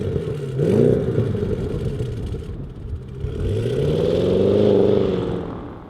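An Audi S8 with a 4-liter twin-turbo V8 and four exhaust tips rumbles at idle, then rises and falls in a smooth rev swell, close and fairly loud, with no talk.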